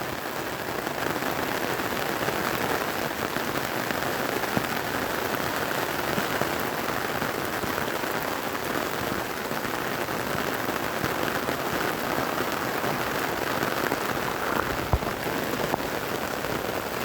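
A downpour pounds flooded village fields, an even, loud wash of rain hiss with occasional nearby drop hits standing out, steady from start to finish and free of speech.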